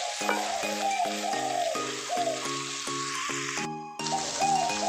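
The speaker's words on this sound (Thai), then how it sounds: "เราจะเคี่ยวกระเทียมนะครับ โดยใช้เนยนะครับเคี่ยว" Chopped garlic simmering in butter in a pan for Thai bucket shrimp, a steady soft sizzle running under a bright repeating musical tune.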